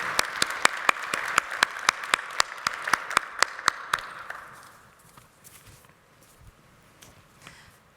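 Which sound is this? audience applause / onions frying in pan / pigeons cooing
audience applause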